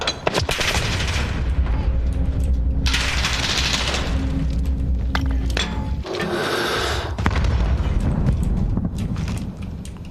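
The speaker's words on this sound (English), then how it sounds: "Throwing grenade." A thrown grenade explodes in a Call of Duty Modern Warfare hardcore match, with heavy booming bursts and rumble filling the clip. There is a short gap midway before another loud blast rolls in.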